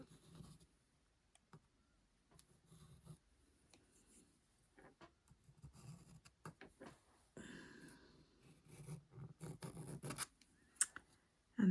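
A pen scratching around a thread spool onto the page of a stitching journal, faint intermittent strokes and rubs with short pauses, close and quiet, no voices.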